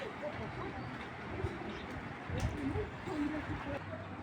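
Soft racing pigeon coos drift in and out over a steady, noisy background hum, fairly faint and without anyone speaking.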